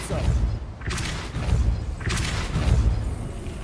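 A Depulso spell cast in Hogwarts Legacy lands as a few dull booming thumps in quick succession, moderately loud over background game ambience.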